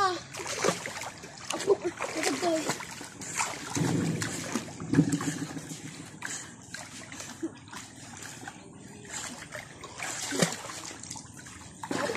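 Water splashes and dribbles around a child during a swimming lesson, irregular close splashing bursts while adults talk and coach throughout.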